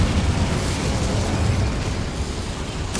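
Incendio fire spell from Hogwarts Legacy, a sustained loud roaring blast with a dense rumbling body that holds steady for about three seconds, then a brief sharp burst at the very end.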